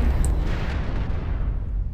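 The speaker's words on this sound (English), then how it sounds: "All of his missiles hit my CT" Missiles slam into a mech's center torso in MechWarrior, a dense, continuous roar of overlapping blasts and booms filling the whole moment at close range with no pause.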